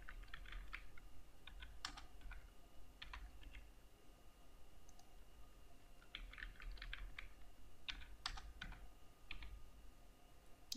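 Quiet, close typing on a computer keyboard comes in irregular bursts of clicking keystrokes with short pauses between them, heard alone with no voices.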